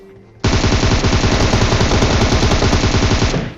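Automatic gunfire in a battle royale video game bursts in suddenly and keeps going as a loud, dense, rapid stream of shots for about three seconds before cutting off.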